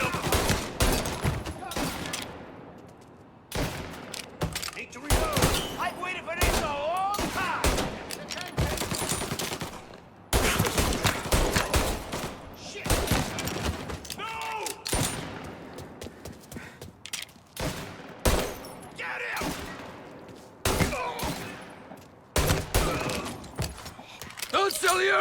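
Gunfire in Mafia Definitive Edition, with dense, repeated sharp shots and bursts crackling for the whole stretch alongside shouted voices.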